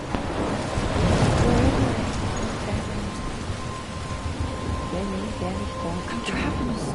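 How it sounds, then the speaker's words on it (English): Stormy ambience from the video game Life is Strange, a steady wash of rain and rumbling thunder with surf-like roar, loud and continuous throughout, with faint voice sounds underneath. "I'm trapped in a storm?"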